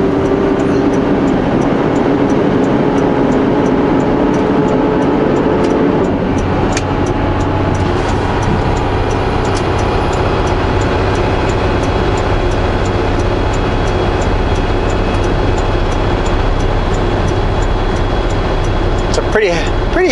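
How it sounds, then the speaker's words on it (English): A heavily loaded truck rolls downhill in 12th gear on Anarchist Mountain near Osoyoos, BC, with a steady, loud, continuous engine and road drone throughout. Someone talks over it. "So maybe let's just pick up one more gear and take the rest of the way down in 12th."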